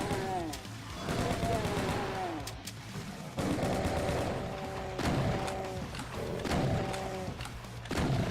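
Gunfire in a custom-built Doom map set in a sewer level, with repeated weapon blasts and booming impacts in bursts, a few loud shots spaced across the stretch alongside game sound effects.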